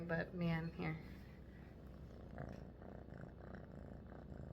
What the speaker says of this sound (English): I don't know if you can hear her purring,